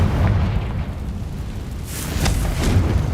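A Confringo fire blast spell from Hogwarts Legacy roars out as a loud, sustained fiery rumble. A few sharp crackling bursts rise from it, with no voices present.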